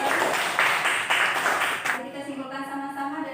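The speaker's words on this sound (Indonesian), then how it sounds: "Tepuk tangan untuk kelompok 2." Students in a classroom applaud a student group with a short burst of clapping that fades after about two seconds, followed by a teacher speaking.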